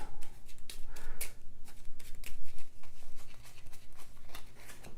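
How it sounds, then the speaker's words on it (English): A deck of game cards is shuffled in a tabletop board game, giving a quick series of soft riffling snaps and slides, close by with no talk. "My cards are done. So now I have to shuffle."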